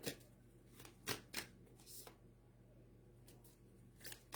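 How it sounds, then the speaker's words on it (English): A tarot deck is shuffled and a card drawn, heard as soft, close flicks and riffles in irregular bursts at low volume, with faint voice traces in the background. "Let me pull you one more card."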